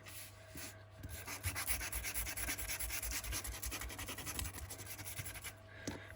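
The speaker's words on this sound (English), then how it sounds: "So I'm going to get my sander and just sand around the edges." An electric sander works around the edges of glossy paper, making a close, continuous rasping scrub with a rhythmic back-and-forth texture that runs almost the whole time before easing off at the end.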